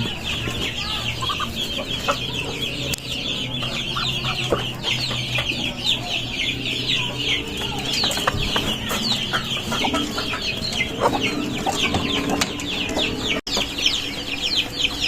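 Mother hens cluck continuously up close in a farmyard, their overlapping clucks forming a busy, steady chorus with no one speaking.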